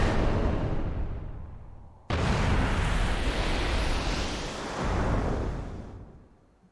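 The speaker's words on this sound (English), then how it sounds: "I think people notice the Suncrist exploding. I think it might be a big explosion." The Sun-Cryst explodes in Final Fantasy XII: a huge, rumbling blast that surges suddenly partway through, roars on with heavy low-end weight, then fades into a long decaying wash.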